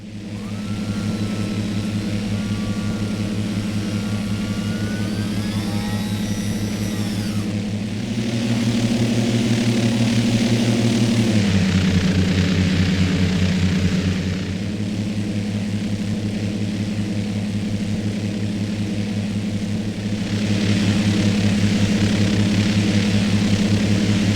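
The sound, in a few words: general aviation airplane engine in X-Plane flight simulator video game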